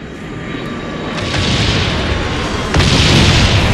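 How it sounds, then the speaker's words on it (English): A B-52 bomber passing over during a video game match, a rising roar of jet engines with sudden loud booming blasts partway through, close and heavy with no speech. "Enemy B-52 inbound!"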